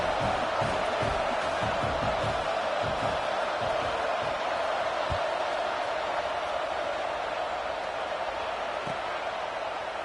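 Crowd noise at a football stadium during an Oklahoma versus Clemson game: a broad, steady roar of voices and cheering holds throughout at moderate loudness, with a few low thuds early on and commentary talk underneath.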